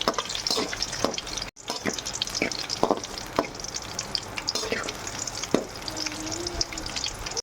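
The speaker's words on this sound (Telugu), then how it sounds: "చూడండి అన్నీ నీట్గా వేగాలి" Stuffed brinjals frying in oil in a pan, a steady sizzling crackle with scattered pops and spoon scrapes, close and fairly loud.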